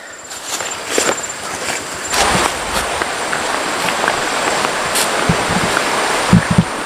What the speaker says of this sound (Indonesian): di sini ada anak sungai